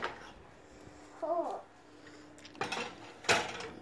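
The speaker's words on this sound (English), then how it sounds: "So in the oven we go." Baking tray slid into a home oven: a soft metallic scrape and clunk, then a couple of sharp rattling knocks as the tray and door settle, moderately close with quiet room tone between.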